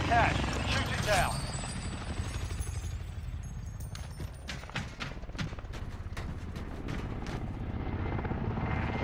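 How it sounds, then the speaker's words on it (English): A hostile attack helicopter in a video game gives a steady, loud rotor thump, with scattered sharp gunfire bursts layered over the engine drone. "Hostile attack chopper carrying cash. Shoot it down."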